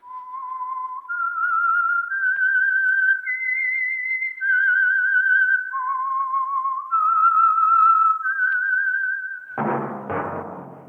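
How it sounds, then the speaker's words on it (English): A lone whistled melody, the theme signal of The Whistler radio program, runs as a clear, sustained tune of about ten stepped notes over several seconds, then ends in a brief burst of orchestral sound. "That whistle is your signal for the Signal Oil Program, The Whistler."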